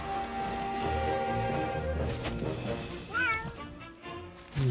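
A kitten meows in the Baldo The Guardian Owls puzzle game, with a few short rising cries heard over steady in-game music and effects.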